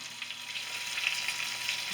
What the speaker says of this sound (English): Throw that right in the pan. And just like the last steak, cook for 5 to 10 minutes in the butter and fat combination.